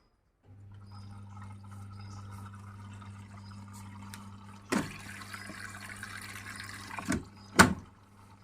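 A new Bosch washing machine running a speed wash takes in water with a quiet, steady rush over a low hum, broken by a few louder gushes and clunks near the end.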